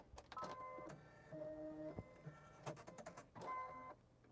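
Home sewing machine stitching quilt blocks, heard in a few short separate runs of whirring motor with tonal hum, moderately close, broken by pauses and small handling clicks.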